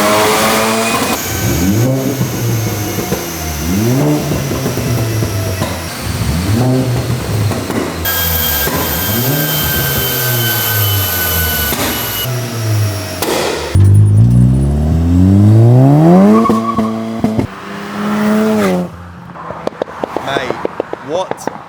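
A VW Polo GTI fitted with a Golf R turbo revs repeatedly through rising acceleration pulls, each sweep climbing in pitch before dropping, followed by a longer hard run with turbo whooshes and sharp crackles at the end, loud and close.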